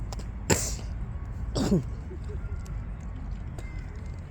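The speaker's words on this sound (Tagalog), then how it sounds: "Yan po mga ibon." Black birds call outdoors, two harsh, caw-like cries about a second apart over a steady background hum, with faint clicks afterward.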